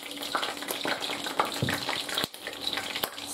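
Butter sizzles and spatters in a hot pan with water added, irregular crackling pops over a constant frying hiss.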